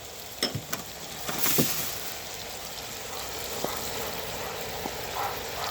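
Onions and mushrooms added to a hot pan for bœuf bourguignon sizzle in a steady, hissing fry, with a few close clacks of utensils at the start.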